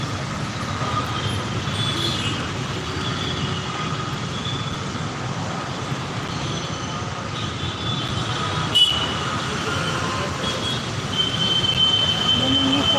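A metro train rumbles steadily at a station, with faint wheel squeals and a brief clunk partway through. Voices are heard under it.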